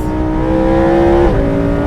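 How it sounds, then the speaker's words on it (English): A Lamborghini Performante Spyder's engine drones steadily at high revs from close by, then drops in pitch with a quick blip as the car downshifts, the tone settling lower afterward. "That was just a downshift from"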